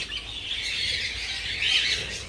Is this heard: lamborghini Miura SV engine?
no